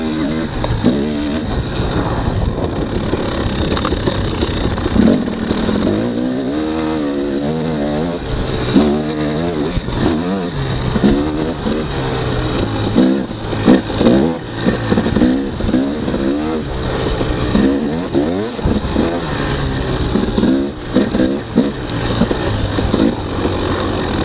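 A 2018 Husqvarna TX300 dirt bike engine revs up and down repeatedly in snow and mud, loud and close, its pitch rising and falling in rapid surges with no one talking.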